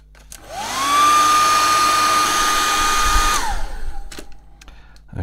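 A hair dryer or heat gun blows steadily for about three seconds, warming the glue on a Palm V PDA to soften it, with its whine rising at start-up and dropping as it switches off, then small handling sounds.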